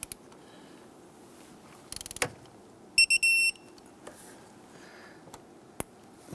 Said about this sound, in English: Now we can torque this down to 80 inch-pounds.